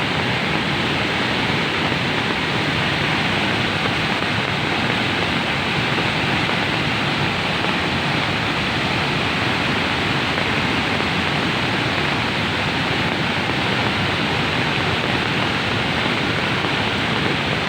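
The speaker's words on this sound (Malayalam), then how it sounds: "എത്ര വേനൽ വന്നാലും വെള്ളം ഒഴുക്കി നിൽക്കുന്നതല്ലാതെ ഒരിക്കലും ഈ വെള്ളം വറ്റുന്നതല്ല" A stream flowing over rocks, a year-round water source that never dries up in summer, gives a steady, dense rush of water. The sound is continuous and close, with no voices over it.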